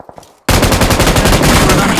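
A rapid burst of automatic gunfire in the mobile battle royale game BGMI erupts suddenly after a quiet moment, loud and continuous with rattling repeated shots.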